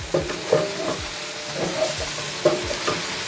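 Eggplant frying in a pan, a short stretch of sizzling oil broken by several scrapes and knocks of a spoon stirring against the pan, close and moderately loud with no talk.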